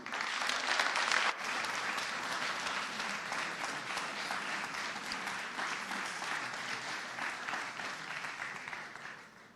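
Warm, prolonged clapping from a pitch competition audience for its incubation track competitors, loud at first, then settling into a steady round that fades toward the end.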